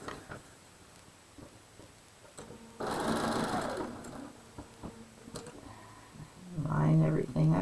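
A domestic sewing machine stitching a 4.5 inch quilt square for a shoofly block, a steady close whirring run in the middle and another burst at the end, with quiet handling noises between.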